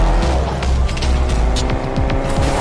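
A car speeds along in Fortnite, its engine roaring loudly with squealing, skidding tires and sharp bursts of game noise layered on top, continuous throughout.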